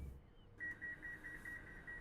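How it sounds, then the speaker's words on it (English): Regular series of short electronic train door beeps from the video game Transport Fever 2, evenly spaced and fairly quiet, heard alone over a low background. "Oh, that's got the door beeps."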